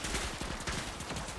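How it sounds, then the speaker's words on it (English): Rapid gunfire in the MOBA shooter video game Minimum, a quick burst of repeated shots rattling close and loud over a dense background of game noise. "Oh, somebody's shooting me."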